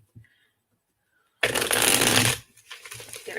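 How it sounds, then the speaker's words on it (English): A deck of reading cards riffled in one brisk, close shuffle lasting about a second, followed by softer handling and tapping of the cards. "get a couple shuffles in here"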